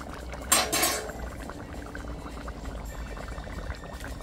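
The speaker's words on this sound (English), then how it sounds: "me and you want to put a sauce into that egg now" Sauce poured into curried snapper head fish with egg, bitter melon and green mango in a pan over a fireside chulha, a brief splashing pour near the start, then a low steady bubbling simmer.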